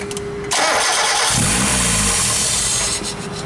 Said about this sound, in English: We're going ahead and starting the motor.